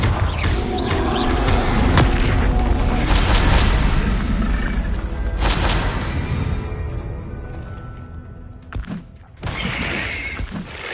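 A fiery Confringo spell blast in Hogwarts Legacy, a loud, low booming impact with rumbling debris and a second thud later, set among other combat effects.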